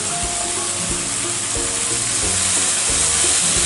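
Capsicum with ginger garlic paste fries in a pan with a dense, steady sizzle, broken by several close scraping strokes of a spoon stirring through, loud and with no talk.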